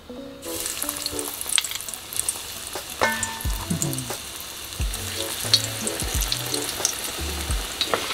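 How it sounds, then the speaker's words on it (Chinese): Apricot fritters frying in hot oil give a loud, steady crackling sizzle, with occasional clinks and stirring knocks from a utensil. "你们不觉得油炸东西的声音很好听吗？"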